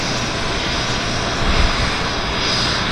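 Alaska Airlines Embraer jet at Vancouver Airport in strong winds, a steady distant engine roar with broadband wind-like rushing and a slight swell midway.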